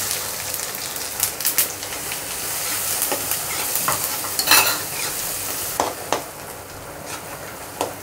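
Chopped onion fries in hot oil with mustard seeds for a tempering, crackling and sizzling loudly up close while being stirred, with sharp pops scattered throughout.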